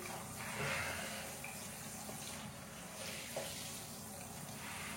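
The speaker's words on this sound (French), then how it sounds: "On rince bien l'éponge." A sponge is rinsed under a running tap during bathroom silicone joint repair, giving a faint, steady hiss of flowing water with soft splashing throughout.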